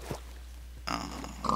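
Pigs in the TerraFirmaCraft game give soft grunts, first a faint short snort, then a louder, longer oinking grunt over a constant low hum.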